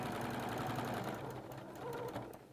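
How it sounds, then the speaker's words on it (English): A sewing machine stitches quilt pieces for a quarter square triangle hourglass block together with a quarter-inch seam, giving a soft, steady, fast running hum that stays close and fairly quiet throughout. "now we'll go in and sew these pieces back together with a 1/4 inch seam"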